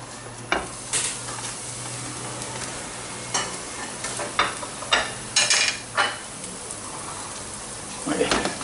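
Garlic dropped into a frying pan of hot olive oil for a seafood paella, sizzling loudly and steadily, with scattered clinks and scrapes of stirring against the pan.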